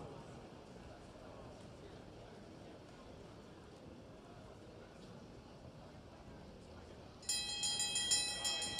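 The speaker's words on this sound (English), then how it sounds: "And there's the bell." A bell rings out for the final lap of a masters track cycling world championship race, a rapid bright clanging that starts near the end, loud over the steady hall noise and crowd murmur.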